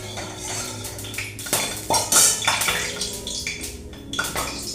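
Eggplant stirred in a little mustard oil in a pan: a metal spatula clanks and scrapes against the pan in uneven bursts, fairly close. No one talks.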